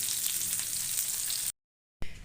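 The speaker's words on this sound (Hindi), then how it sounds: "बस थोड़ी देर के लिए और इसको फ्राई करेंगे।" Aloo chicken kebabs frying in a pan give a steady, loud oil sizzle for about a second and a half, then a short silence before the sizzle resumes.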